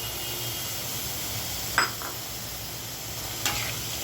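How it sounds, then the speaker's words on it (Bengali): Washed lentils tipped into a frying spice paste for a Bengali masoor dal with bitter gourd, a steady hiss of sizzling with two short clatters as the lentils hit the pan. "এখন আমি ধুয়ে রাখা ডালগুলো দিয়ে দিচ্ছি"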